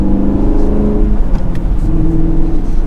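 Exhaust of a 2022 Chevrolet Camaro 2SS 1LE with manual gearbox, a loud close rumble that shifts pitch as the car accelerates, with a few faint pops and crackles mixed in.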